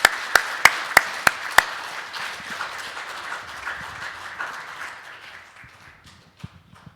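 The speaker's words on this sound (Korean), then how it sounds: "박수 한번 하겠습니다." A congregation claps during a church service for the ordination of elders and installation of deaconesses: six sharp, loud claps in unison, then softer scattered clapping that thins out and fades.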